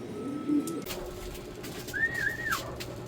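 A pigeon coos softly, a low murmuring call followed by a rising and falling note, fairly close and alone against quiet background noise.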